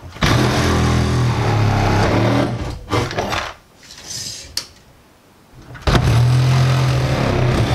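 A power saw fitted with a metal blade cuts through metal embedded in wood during a small cabin window install, loud grinding bursts separated by a short lull before a final pass.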